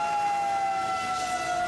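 Fire engine sirens from fire trucks heading to a factory fire, a steady tone holding at one pitch, loud and continuous against background noise with no talking.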